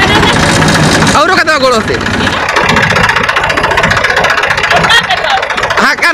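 Eicher 480 tractor engine running loudly and steadily close by in a potato field, a continuous throbbing drone with a brief squeal of rising tones, while people talk over it.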